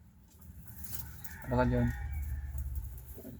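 Chickens and roosters on a farm cluck and crow nearby, with one loud crow rising midway while someone speaks briefly.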